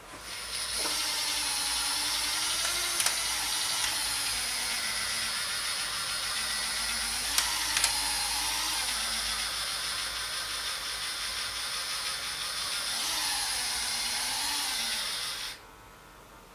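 A Hornby model railway turntable motor whirs steadily and close by for about fifteen seconds, a thin mechanical drone with a few brief clicks, then cuts off abruptly near the end.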